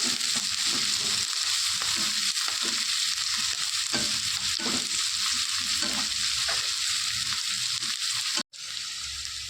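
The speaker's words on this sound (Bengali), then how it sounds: "আর পেঁয়াজ কুচানোগুলো দিয়ে দিলাম। এগুলোকে একটু ভালো করে ভেজে নেব।" Chopped onions and garlic frying in a pan, a dense steady sizzle with rhythmic spatula scrapes and stirs throughout, briefly cutting out near the end.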